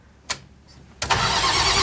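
Nissan SD33T diesel engine: a sharp click, then the starter cranks hard and loud and keeps grinding as the engine nearly catches.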